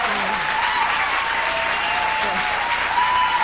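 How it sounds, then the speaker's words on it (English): Concert audience applauding steadily and loudly, a dense unbroken wash of clapping that carries on without pause from start to finish. "Oh, they're just going to clap forever."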